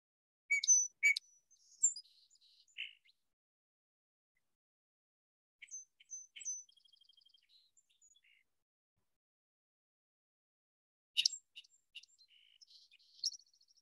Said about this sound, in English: So that's the song sparrow call.